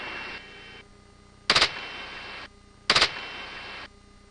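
Two sharp, loud bursts of French navy gunfire aimed at a drone, spaced about a second and a half apart, ringing out over a steady hum of wind and ship noise.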